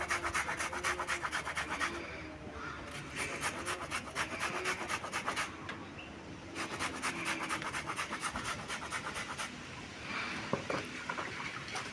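Carrot rubbed against a grater, a close rhythmic rasping scrape in quick repeated strokes, pausing briefly a few times between bursts.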